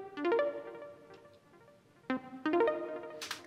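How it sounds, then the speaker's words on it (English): A plinky plonky synthesizer sound from Anatu plays short plucked notes in quick little clusters, with a pause between two bursts, quiet and alone with no voices. "you hear more of the plinky plonky sounds from Anatu"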